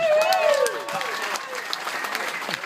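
Comedy club audience applauding, steady clapping and crowd noise heard under a performer's voice.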